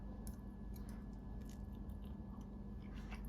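Close, soft biting and chewing of a vegan, gluten-free black bean meatball coated in pasta sauce, with small crunchy, squishy mouth sounds over a steady background hiss and no talking.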